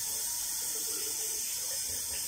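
Tap water runs steadily while a pet dog is bathed, a constant close hiss of flowing water with no talking over it.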